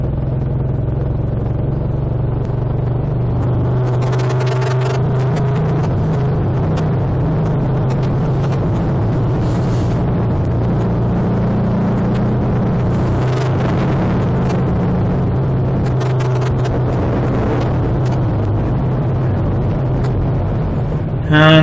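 A BSA A65 motorcycle rumbles steadily through a tunnel in the Peaks, its engine note echoing and droning continuously with occasional clattering surges and wind buffeting, close and fairly loud throughout.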